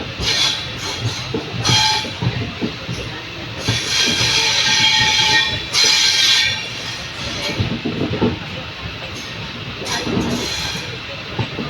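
A goods train passing near Hassan on a line with track work under way, a loud continuous rolling rumble with bursts of high metallic wheel squeal and hiss, close by and sustained throughout.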